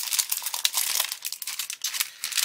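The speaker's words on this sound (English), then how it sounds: "we've got the delivery here in the plastic bag, all nicely sealed up" A sealed plastic delivery bag holding a Hachette Avro Lancaster B.III model kit issue crinkles and crackles continuously as it is handled up close, with irregular bursts of rustling and no talk.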